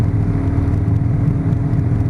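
A car engine idles steadily nearby, a continuous low rumble with no revving, heard alone without talk.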